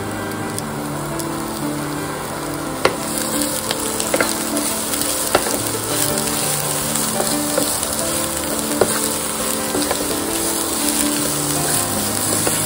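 Sautéing with turmeric, salt and coriander: a continuous pan sizzle with scattered spatula scrapes and clicks against the pot, steady and close throughout, no speech.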